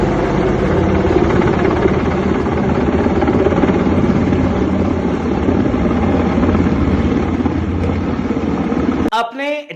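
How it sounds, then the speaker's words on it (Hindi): A military helicopter landing on a rooftop hospital helipad, a loud steady rotor and engine roar that holds close and constant throughout before cutting off abruptly near the end, where a voice briefly begins. "मिलिट्री जो हेलीकॉप्टर है वो अब घायलों को लाने ले जाने का काम लगातार कर रहा है"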